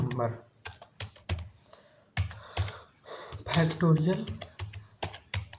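Fingers type on a computer keyboard in quick irregular bursts of close clicks, with a person speaking over part of the keystrokes.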